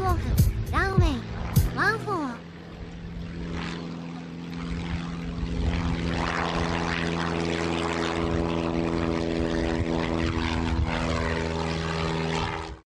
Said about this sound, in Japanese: 松山行き、パイパー PA28。 ランウェイ14より離陸、